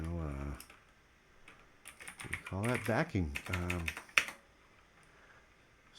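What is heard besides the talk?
typing on a computer keyboard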